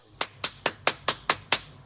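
Seven evenly spaced sharp hand claps ring out close by, a single person clapping in a steady rhythm with a slight echo and no talk.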